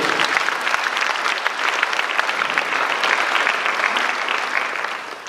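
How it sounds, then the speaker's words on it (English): Sustained applause from an audience honouring Mama Jo at a memorial tribute, steady and dense clapping throughout, fairly close and full, easing slightly at the end. "Let's give a big clap to Mama Jo."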